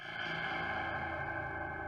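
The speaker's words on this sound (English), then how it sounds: "So if you add like an echo effect," A boom sound effect in the Scratch coding program, played with an echo effect, rings out as a sustained, droning, distorted tone with no speech over it.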